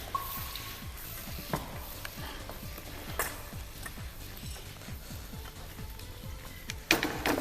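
Chilli chicken is tossed in gravy over a high flame, a constant close sizzle under quick, rhythmic scraping and clanking of a wok and ladle, with a louder clatter near the end.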